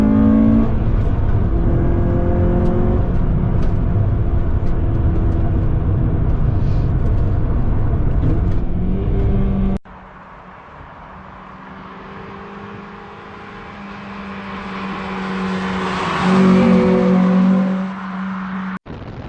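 A modified Honda Civic FN2 Type R engine pulls hard at full throttle, a loud, steady drone rising in pitch, then a quieter stretch where revs climb again toward a peak before easing off.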